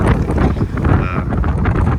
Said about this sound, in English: It's really windy, so I'm not too sure how the sound's going to be here